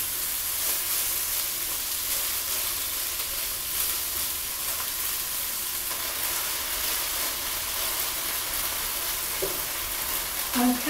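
Flour-coated beef browns in a pan for stew, giving a continuous broad sizzle with faint scattered pops and occasional light stirring, steady and close throughout.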